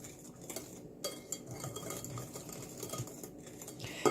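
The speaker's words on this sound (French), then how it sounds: "je vais mélanger juste au fouet" A whisk scrapes and clinks against a bowl while muffin batter with sour cream is mixed, close, quick irregular metallic taps and stirring rustle over a few seconds.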